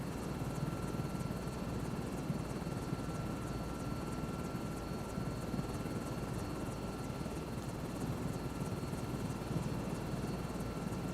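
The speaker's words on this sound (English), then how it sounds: "Let's lift off with the sky crane." A sky crane helicopter lifts off in Microsoft Flight Simulator 2024, its steady, loud rotor and engine roar filling the scene without a break.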